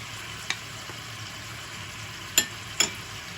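Steady low sizzle of two large chopped onions frying in a pot, with a few sharp clinks of a utensil against the pot.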